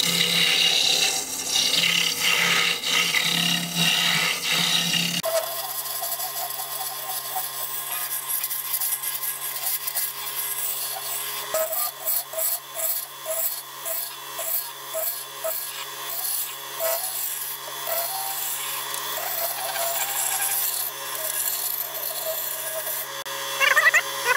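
Roughing gouge cutting a spinning wooden sword on a woodturning lathe, a steady scraping hiss of the tool on wood with rhythmic pulsing strokes and no talk.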